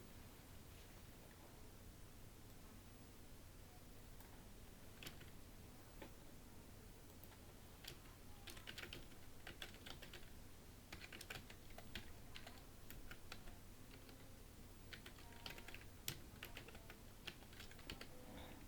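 Someone types steadily on a computer keyboard while entering text into PowerPoint WordArt. The keystrokes are quiet, close and irregular, with bursts of rapid clicks over a faint hiss and no speech.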